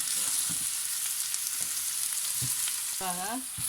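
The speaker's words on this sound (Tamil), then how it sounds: "ஒனியனை போட்டு பொரித்தெடுக்க வேண்டும்." Onions frying in a pan for a Jaffna-style brinjal curry give a steady close sizzle with occasional stirring scrapes and clinks, and a short whistling tone rings out near the end.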